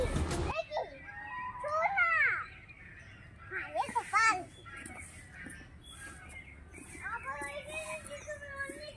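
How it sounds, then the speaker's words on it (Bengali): Birds call from trees at Ward's Lake park in Shillong, with crows cawing among them: chirps and caws come in bursts at moderate distance, while voices that sound like children talk over much of it. "প্রচুর পাখির আওয়াজ পাওয়া যাচ্ছে। এখানে বিভিন্ন রকমের পাখি আছে"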